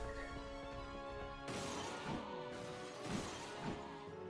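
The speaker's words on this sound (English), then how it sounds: "Man, you guys broke all the stained glass windows." Stained glass windows shatter in Castlevania: Curse of Darkness: sharp crashes at intervals, with glass shards ringing out over a sustained musical tone.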